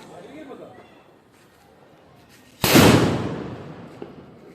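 A Diwali firecracker bomb, tied up with string, goes off in one sudden loud blast, and the crackling burst slowly fades. Quiet voices and background noise come before it.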